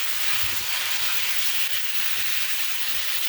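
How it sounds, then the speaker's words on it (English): Chicken fajitas sizzling in a pan over high heat, a loud, steady, crackling hiss close up that holds without a break and has no talk over it. "you want it really nice high heat so you get that sizzle"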